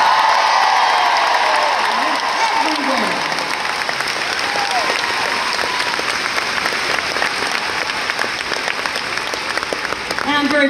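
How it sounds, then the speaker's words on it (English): A large concert crowd at a show gives the crew sustained, loud applause with cheers and whoops rising over the clapping, continuous for the whole stretch and briefly topped by a voice near the end. "would you please give a big rip-roaring round of applause for our crew?"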